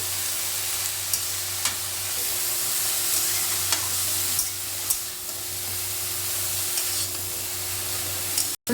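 Vegetables sizzle in a frying pan while being stirred, a steady close frying hiss punctuated by regular spatula scrapes and taps against the pan, with a low steady hum underneath.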